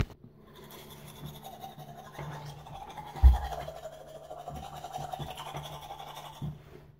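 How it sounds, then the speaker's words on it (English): A toothbrush scrubs teeth with soft, continuous scratchy strokes, close and fairly quiet, punctuated by a louder bump midway and a few small knocks. "Teeth brushing time."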